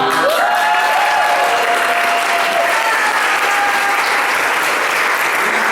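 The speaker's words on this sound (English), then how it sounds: "I just want to applaud you" Applause from a leadership academy audience for a wife of 31 years, a steady, dense wash of clapping that fills the room and holds loud and even throughout, with faint tonal hum lines running beneath.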